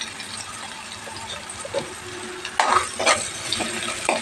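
Onions with salt frying in a pan, a continuous close sizzle with a couple of brief louder bursts of stirring near the end.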